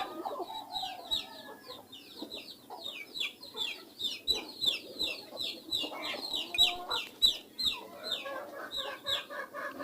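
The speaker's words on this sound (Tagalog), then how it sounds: "Papakain ng kanyang mga alagang native na manok bago pumunta ng construction." A flock of native chickens clucks busily while being fed, rapid overlapping calls rising and falling, fairly close with no talking.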